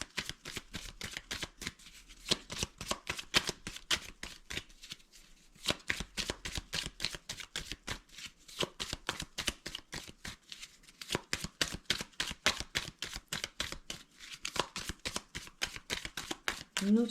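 Tarot cards shuffled and dealt in a steady run of quick riffling flicks and soft slaps, close and crisp, continuing throughout with only a faint murmur underneath.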